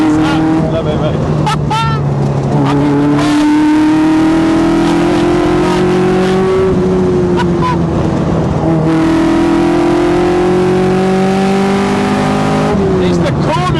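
A Westfield SEiW sports car drives on the open road with its engine loud and close, revving up and down through several gear changes while people talk over the noise.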